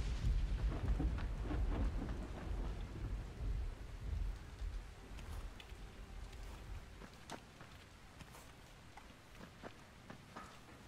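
Rain falls steadily in the video game Dying Light, with a heavy rumble of thunder at the start that fades away, leaving softer rain patter and scattered drips.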